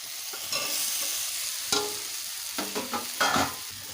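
Fried potatoes go into frying masala and get stirred, giving a soft background sizzle with several sharp clinks and scrapes of the spoon against the pan, close and fairly quiet.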